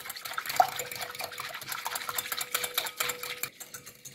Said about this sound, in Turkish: Maya eriyinceye kadar şöyle çırpıcıyla karıştırıyoruz.